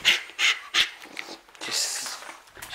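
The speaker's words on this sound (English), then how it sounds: "you just got a dog here that's just like jumping" An excited dog jumps about and pants, with quick breathy bursts and small whimpers coming close and fairly faint in an otherwise quiet room.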